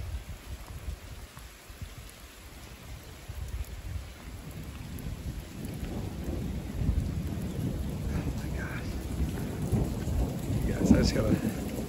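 A thunderstorm on a mountaintop at Skyforest near Big Bear, with rolling thunder rumbling low beneath a steady wash of heavy rain that builds slowly in strength. No one speaks.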